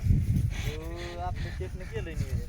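A bull lows at a bullock race ground, a single drawn-out moo rising over loud crowd noise and background chatter.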